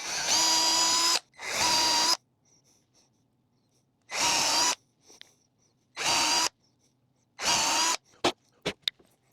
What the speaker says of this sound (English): Last thing I think I'm gonna do is drill some holes for these brushes.